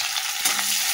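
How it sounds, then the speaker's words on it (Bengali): Chopped onion fries in hot oil with panch phoron and a dried chili, making a bright, continuous close sizzle with a brief stir partway through, and no talking. "দেখো তেল তো গরম হয়ে গেছে, এর মধ্যে 5 ফোড়ন, একটা শুকনো লঙ্কা ফোড়নে দিয়ে দিলাম, আর একটু পেঁয়াজ কুচি দেবো"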